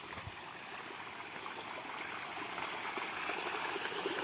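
Rainwater running through a field channel on a rainy day, a faint, steady rushing trickle throughout, with no talk over it.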